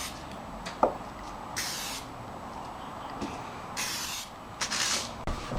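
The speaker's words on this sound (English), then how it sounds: "now I'm going to spray it down with the gloss finish" Short aerosol bursts of gloss finish sealer sprayed onto a doll stand, several separate hissing puffs of a second or so each, fairly close with quiet pauses between.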